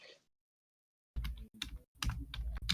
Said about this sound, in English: Furious typing on Jensen.